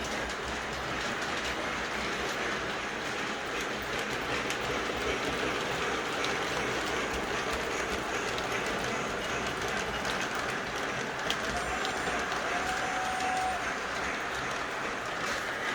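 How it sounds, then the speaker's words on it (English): A Lionel O gauge model train runs steadily around a layout with a continuous rolling rumble and fine clicking of wheels on track, a faint squeal briefly rising partway through, with no talk. "And then with that train coming around here"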